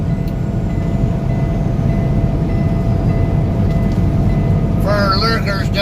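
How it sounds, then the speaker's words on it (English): Truck cab buzzer that resembles a railroad crossing bell, steady repeating tones over loud road and engine rumble, with a voice briefly speaking near the end. "my buzzer sounds like a railroad crossing"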